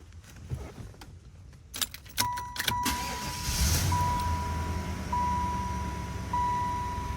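Keys jangle and click in the ignition of a 1996 Chevrolet Impala SS, then the engine cranks and catches, settling into a steady idle while a chime beeps repeatedly.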